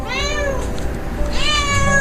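A cat meows twice, the calls drawn out and clear at close range with a short gap between them, over faint background noise.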